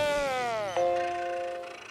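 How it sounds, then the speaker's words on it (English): Karen's reboot sound effect from SpongeBob's Spot Returns, a Macintosh-style startup chime: a bright, sustained harmonic tone that bends downward, then settles into a steady chord fading out, loud and alone. "Karen's reboot sound is a nostalgic nod, as it mimics the classic Apple Macintosh startup chimes."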